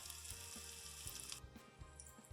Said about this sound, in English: So you're not really frying, you're more like sauteing them.